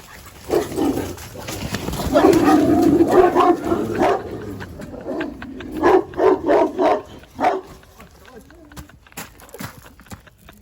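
An Anatolian Shepherd dog barks in a series of sharp bursts near the microphone, mixed with people talking and some shuffling movement.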